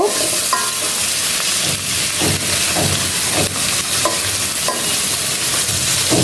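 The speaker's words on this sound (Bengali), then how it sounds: "লবণ আর হলুদ দিয়ে চিংড়ি মাছটা একটু ভেজে নিব বেশি না অল্প" Shrimp fry in hot oil with salt and turmeric, a loud, steady sizzle and crackle close by, with repeated stirring knocks and scrapes of the spatula in the pan and no talk.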